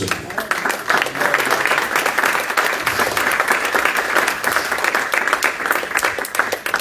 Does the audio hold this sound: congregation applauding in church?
yes